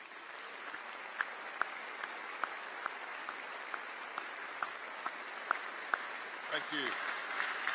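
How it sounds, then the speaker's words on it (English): A commencement crowd gives the faculty a round of applause, sustained clapping from a large audience with sharp individual claps standing out, and a voice briefly speaks near the end. "I would like to ask the faculty to stand and for us to give them a round of applause"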